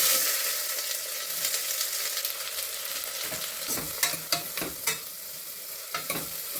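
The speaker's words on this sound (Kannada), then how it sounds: "ಅದಾದ ತಕ್ಷಣ ಈರುಳ್ಳಿ ಹಾಕ್ತಾ ಇದ್ದೀನಿ." Onion goes into hot oil in a pan with cloves, cinnamon and cardamom for tomato bath, sizzling steadily with a few scraping stirs near the end; no voices.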